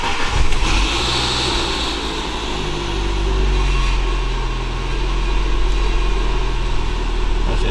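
A Saab 9000 engine turns over and settles into a steady, loud running drone close by, with a low rumble holding throughout and no talk.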